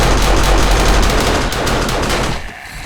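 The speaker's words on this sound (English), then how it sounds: "Aiden, turn the rifle one on." An automatic rifle turret in the 7 Days to Die zombie game fires a loud, rapid continuous burst of gunfire at zombies, the rattle easing slightly near the end.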